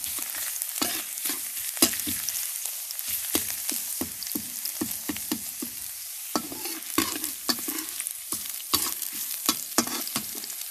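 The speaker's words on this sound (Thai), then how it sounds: "พอน้ำมันร้อนนะคะแล้วก็ใส่กระเทียมลงไปนะคะ" Garlic frying in hot oil in a wok for fried rice, with dense sizzling and repeated clattering strokes of a spatula stirring at an uneven rhythm throughout, close and fairly loud.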